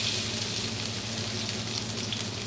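Onion frying in extra virgin olive oil for paella, a close, even, continuous sizzle with no voices.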